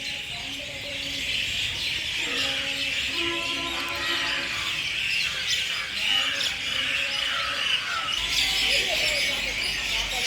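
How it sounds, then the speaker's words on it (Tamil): A large flock of birds chirps and calls at dusk around a temple complex, a dense, continuous chorus of overlapping tweets and squawks, moderately loud and steady, with a voice speaking quietly beneath. "ஏராளமான பறவைகள்"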